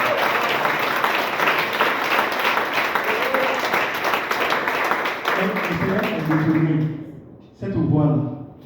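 Audience applause fills a gospel conference hall, a dense sustained clapping that fades near the end before a short burst returns, with someone speaking over the tail.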